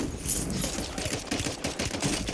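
Rapid automatic gunfire in the Warzone video game, a dense, continuous burst of shots rattling steadily for a couple of seconds, close and loud with no voices.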